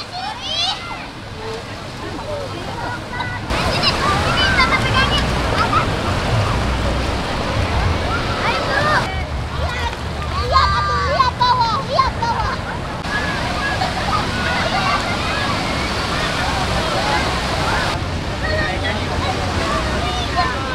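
Ocean surf at a beach in Pangandaran, a steady wash of breaking waves with wind noise, fairly loud and continuous, with voices of people talking over it.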